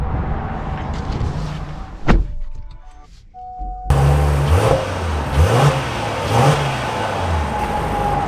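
A 2025 Honda Pilot Elite SUV pulls away after a door thunk and a brief electronic chime, its engine rising in several revving surges that climb and fall in pitch, close and fairly loud, with no talking.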